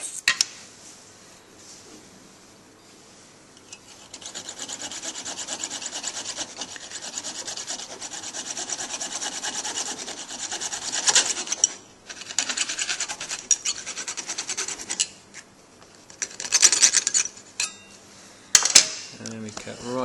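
Trimming a nylon orthodontic maxillary expansion appliance on its model with a hand tool, giving steady rasping and scraping strokes, close and moderately loud, with brief sharper scrapes near the end and no talking.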